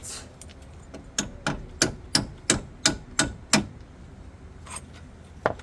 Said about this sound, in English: let's hammer it.